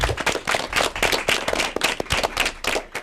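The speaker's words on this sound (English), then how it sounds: "you know I love to end with that big round of applause" A small group of elementary academic derby teams gives a big round of applause: close, uneven clapping with distinct individual claps in loose rhythm, fairly loud and alone.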